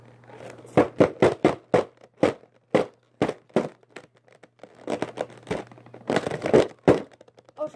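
Toy packaging being forced open, with bursts of loud close crinkling, tearing and cracking of plastic and cardboard, coming in rapid clusters broken by short pauses.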